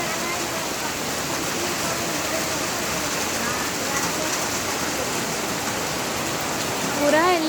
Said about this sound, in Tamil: இங்க கேரளத்துல நல்ல மழை